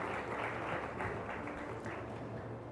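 An audience at a policy leaders' session applauds the departing minister, giving a steady, fairly soft wash of clapping that holds evenly throughout.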